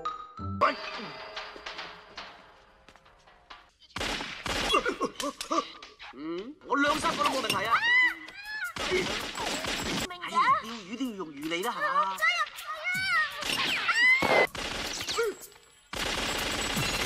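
Gunfight from the City Hunter film: bursts of rapid gunfire and impacts come in loud clustered volleys between pauses, mixed with shouting voices and fight-scene sounds.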